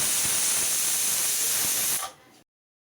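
A pressure cooker with spinach inside vents steam in a loud, steady hiss that lasts about two seconds, then abruptly fades and stops.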